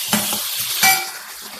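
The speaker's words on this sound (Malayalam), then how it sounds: "ഇഞ്ചി ഇട്ടു പച്ചമുളക് ഇട്ടു കറിവേപ്പില ഇട്ടു വെളുത്തുള്ളി ഇട്ടു സവാള തക്കാളി എല്ലാം കൂടി വഴറ്റുക" Ginger, green chilli, curry leaves, garlic, onion and tomato are sautéed together in a pan for a chickpea curry, with a steady sizzle and two louder bursts of stirring scrapes and clinks, close by and with no voices.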